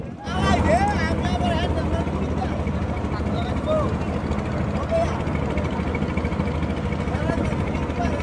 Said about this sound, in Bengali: এই ছোট নৌকার মধ্যে আবার ইঞ্জিন লাগিয়েছে আরও একটি ট্রলার এগিয়ে যাচ্ছে